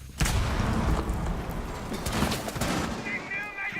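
Rapid overlapping bursts of gunfire from a competitive first-person shooter esports match crackle continuously, loud and dense with heavy thumps, as a match caster speaks over the action.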